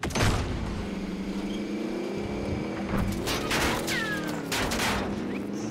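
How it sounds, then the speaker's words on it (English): Gunfire from all sides in an online shooter game, dense bursts of shots and clattering impacts running steadily throughout, loud and busy with occasional whistling sweeps. "they're shooting like from all sides"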